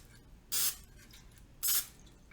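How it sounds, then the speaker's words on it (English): Cooking spray hisses onto the sides of a loaf pan in two short, bright bursts about a second apart, close and fairly loud, with quiet room tone between them. "all you need to do is lightly spray the sides"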